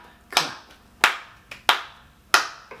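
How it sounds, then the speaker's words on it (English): Five sharp hand claps at an uneven pace, close and crisp, each ringing out briefly before the next, during a children's music session. "take our hands and give a little clap"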